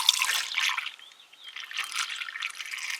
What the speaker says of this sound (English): we're gonna add more coolant